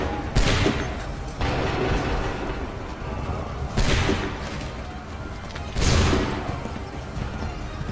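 Loud volleys of gunfire let off on command, three heavy bursts with booming echoes and a rumbling tail in between, close and forceful.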